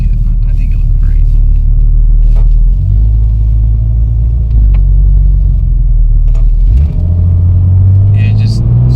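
A tuned Porsche 991 Turbo with over 650 hp drives along, its deep engine drone steady and loud from inside the car, with a gear change and a rising note near the end while people talk over it.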